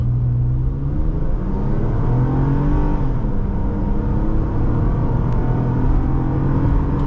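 A 2009 Toyota RAV4 V6 4WD accelerates hard from a standstill to 60 mph, its engine rumbling and rising in pitch through steady gear pulls, heard close from inside the cabin with no talk.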